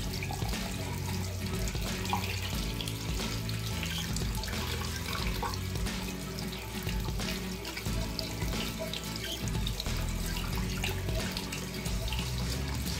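Water pours steadily from a tap onto an Honor X9a 5G smartphone during a water test, a continuous loud splashing and spattering close by with no speech.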